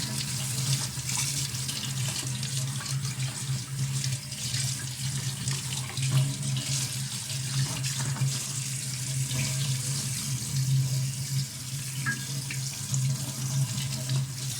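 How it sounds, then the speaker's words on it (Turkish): Tap water runs steadily over a dishwasher part being rinsed in a sink, a continuous close splashing stream with no pauses and no talk. "Bunu biraz daha bol suyla yıkayalım da gözeneklerde tıkanma varsa"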